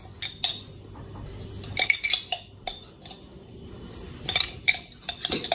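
A metal spoon scrapes pesto-dressed pasta into a bowl, giving a few close, sharp clinks and scrapes in short bursts against ceramic, with quiet pauses between and no talking.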